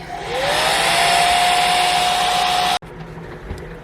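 A hair dryer blows steadily on a freshly painted wooden sign with shiplap-style lines, its loud, even whir holding with a faint rising whine until it cuts off abruptly near the end, leaving quiet room sound.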